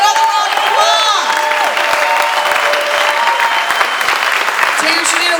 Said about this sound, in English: Can we give Roger Rachel another round of applause?